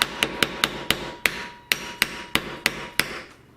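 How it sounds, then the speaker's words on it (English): A hammer lightly taps a double-pin door hinge pin about a dozen times in an uneven rhythm, each strike a sharp, close metallic knock in a quiet room. "Get your hammer and just lightly tap."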